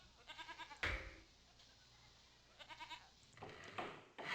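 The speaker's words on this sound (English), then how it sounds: "I'm getting laughed at by sheep" Several short, shaky bleats from sheep in the video game Railroad Tycoon II, bursts at the start and again later, with a wavering tremolo quality, moderately loud over a quiet background hum.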